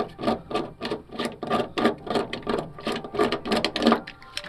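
A hand rivet tool works a rivet into a hole on a drift car, giving a rapid series of close, crisp ratcheting clicks and squeezes in a quick repeating rhythm, loud and without voices.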